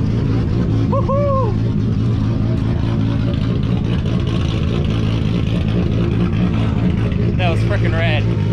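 Pro drift car held in a burnout, engine droning loud and steady under excited voices and cheering, with a couple of whoops rising over the din.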